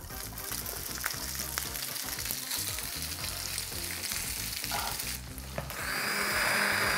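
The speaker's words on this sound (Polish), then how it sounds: "a tutaj przystawię boczek. Skórkę wrzucimy, aby nam się cała wytopiła" Bacon and bacon rind frying in a pan, giving a dense, continuous sizzle that stays close and steady throughout and then grows brighter and louder near the end.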